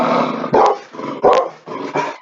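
A pet dog barks repeatedly and loudly close by, three or four gruff barks with a growly edge in a steady rhythm.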